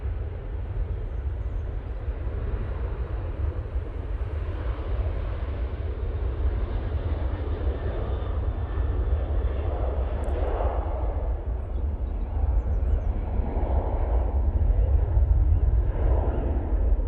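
Ryanair Boeing 737-800 jet on its takeoff roll at Manchester Airport, a loud, steady, broadband roar filling the whole stretch and building slightly toward the end.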